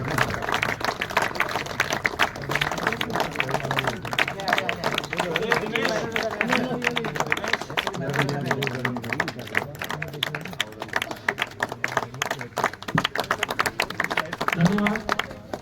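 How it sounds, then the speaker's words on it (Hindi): Crowd applause at a Sindhi literary program on the Sindhu riverbank in Ladakh, sustained rhythmic clapping under continuous amplified speech and crowd babble. "तालियां बंद मत करो"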